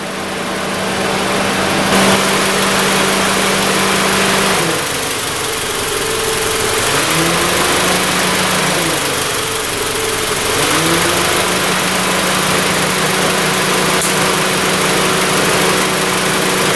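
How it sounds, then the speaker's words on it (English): A Honda Civic with an A/C fault idles loud and close with a steady engine drone, and its note shifts partway through as the A/C compressor engages. "Hey, the compressor just kicked in there."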